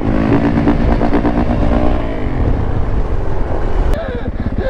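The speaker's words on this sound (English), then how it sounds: "They brought out all the race bikes today." Banshee race bikes roar past loudly with buzzing two-stroke engines, the pitch dropping as they go by, then a sharp click and a fresh high-revving engine note rises near the end.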